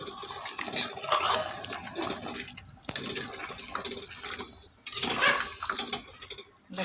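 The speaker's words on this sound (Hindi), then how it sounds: "मु एबे गरम पानी दे दउची देखंतु एबे त मिसै नबा" Hot water poured into a pot of mutton curry with potatoes, a steady splashing, gurgling pour that swells and dips over several seconds, close and moderately loud with no talk.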